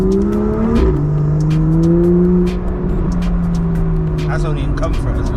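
A BMW M2 Competition drives off, its engine note rising and then settling into a steady drone after an early shift, heard from inside the cabin with people talking over it.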